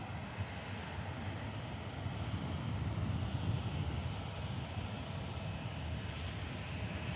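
A Ryanair Boeing 737-800 airliner arrives at Manchester Airport, its jet engines a steady, broad roar with a rumbling low end that swells slightly midway, heard from a distance with no talking.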